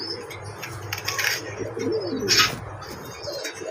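A male pigeon on a fancy pigeon farm coos in soft, low rolling phrases, close by, with a few sharper chirps and brief wing flutters mixed in.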